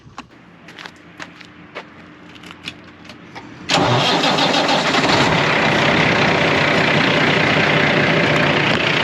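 A 2009 Peterbilt 386 diesel truck engine with 1.4 million miles cranks with rapid ticking, then roars to life and settles into a loud, steady idle close by.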